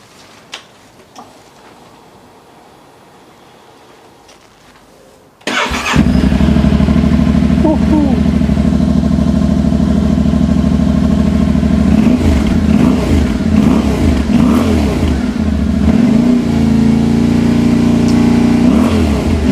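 After a quiet stretch with faint clicks, a new small motorcycle engine fires up abruptly into a loud, close idle, with repeated blips of the throttle rising and falling over a steady running drone.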